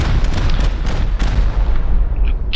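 Rockets explode in a Rust video game firefight, dense heavy booms and rumbling blasts rolling continuously, loud and close, then easing off with faint clicks at the end.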